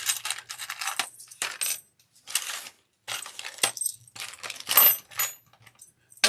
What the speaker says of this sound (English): we're going to be grabbing our zipper pulls, and there's 4 of them.